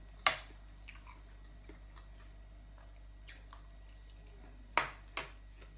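Crispy Thai fried omelette eaten with rice and spicy canned-fish salad, crunched in a few sharp, close bites spaced apart against a quiet background hum, with no talking.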